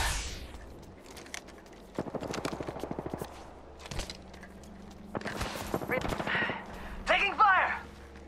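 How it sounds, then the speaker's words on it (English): Gunfire in the Apex Legends video game: rapid bursts of automatic shots at moderate distance, with footsteps and game sound effects between volleys and a voice speaking over it. "They're shooting at me."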